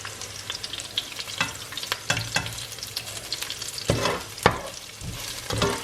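Ground sardines and eggplant stirred in a frying pan, a spoon scraping in irregular strokes over a constant sizzle, louder scrapes near the end, no voices.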